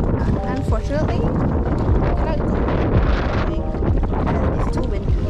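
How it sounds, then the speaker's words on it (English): Strong gusts buffet an outdoor microphone at a lakeside camp, producing constant loud rumbling and flutter. Voices can be faintly made out underneath the wind. "it's too windy"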